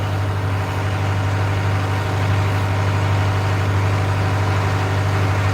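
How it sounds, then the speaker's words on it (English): A boat's engine runs at full throttle in a harbor, a loud, unbroken low drone with a steady hum that holds constant and close for the whole stretch. "the full throttle noise of the engine will go down"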